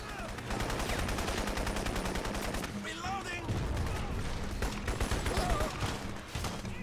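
Automatic gunfire in the game Crysis, sustained rapid bursts rattling throughout at moderate volume with a short lull midway, a voice speaking over part of it.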